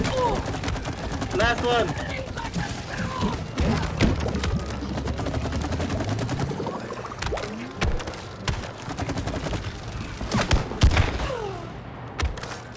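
The match gun in the video game It Takes Two fires in scattered sharp shots and quick bursts, loud and near, mixed with other game impacts while players talk over the action.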